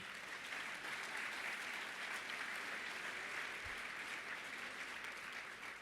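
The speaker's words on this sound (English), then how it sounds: "how about another round of applause for our award winners?" A convention audience at a bowling congress annual meeting claps for award winners, an even, sustained wash of applause that stays steady to the end.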